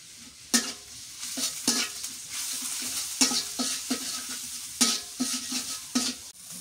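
Spice paste with turmeric and salt frying in a pan for a prawn and potato curry, stirred in a rhythm of repeated scraping strokes over a bright, close sizzle.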